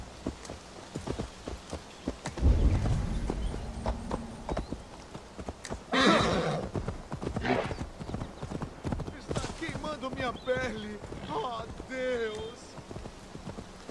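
Horse hooves gallop in a steady clip-clop rhythm in Assassin's Creed Valhalla, near and fairly loud, while someone talks over the ride and the game's music and effects play underneath.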